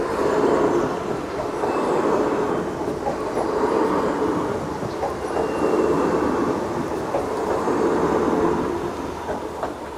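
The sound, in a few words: train passing a level crossing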